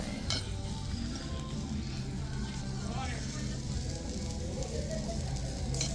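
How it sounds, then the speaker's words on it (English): Food sizzles steadily on a hot skillet at an Applebee's restaurant, a constant crackling hiss with occasional scrapes of stirring and faint voices in the background. "I always like the sound of that sizzling"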